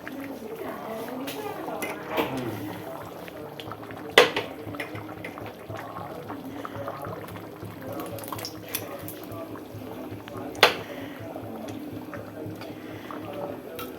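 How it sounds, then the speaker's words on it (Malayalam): Fish fries in hot oil in a Kerala home kitchen with a steady crackling hiss and a couple of sharper pops, while a voice talks softly underneath. "മീനൊന്ന് വറക്കട്ടെ."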